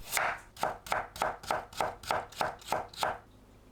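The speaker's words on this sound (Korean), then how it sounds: "당근을 곱게 채 썰어줍니다." A knife julienning carrots chops steadily on a cutting board, about ten crisp, evenly spaced strokes close up, with no talking.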